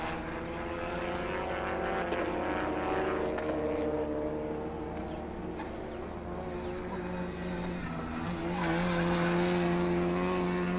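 Polo Cup race cars circulate on track, engines droning continuously with shifting pitch as cars pass, a louder surge near the end, no speech.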